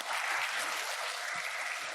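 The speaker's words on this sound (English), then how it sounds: "So if we could give her and the marketing team a round of applause." An audience at a financial bootcamp applauding Shannon and the marketing team, a dense, steady burst of many hands clapping at once throughout.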